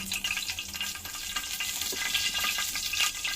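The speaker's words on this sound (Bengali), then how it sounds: "এখানে সামান্য করে একটু জিরা দিয়ে দিলাম, মানে গোটা জিরা। আর তারপর দিয়ে দিচ্ছি এই যে শুকনো মরিচ" Whole cumin seeds and dried red chillies fry in hot oil, making a steady, continuous close sizzle and crackle with faint stirring scrapes throughout and no talking.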